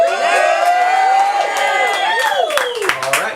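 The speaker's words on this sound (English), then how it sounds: "All right, that's a big crowd." A large outdoor crowd cheers and whoops at a live beach concert at the Big Beach, a dense, steady roar of many voices close by.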